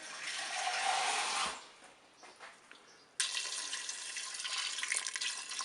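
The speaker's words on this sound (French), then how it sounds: "je vais mettre de l'eau au ras des pâtes" Water poured into a Cookeo multicooker pot over pasta until it just covers it, a steady close splashing stream that stops, a short quiet pause, then a second strong pour that runs to the end.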